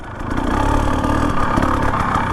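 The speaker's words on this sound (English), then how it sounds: "It is so crazy how this thing's just idling." A 2025 Husqvarna TE 250 motorcycle fitted with an FMF exhaust and TSP tune idles steadily up close, a continuous low, even engine rumble with no revving.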